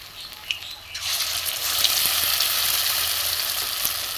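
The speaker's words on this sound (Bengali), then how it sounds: "দেখুন তেলের মধ্যে আমি ছেড়ে দেব" Prawn patori wrapped in bottle-gourd leaves hits hot oil after a quiet second, setting off a loud, close, continuous bubbling sizzle that holds steady to the end.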